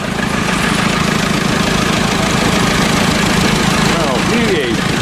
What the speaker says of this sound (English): This is what we want, the sound of the tractor.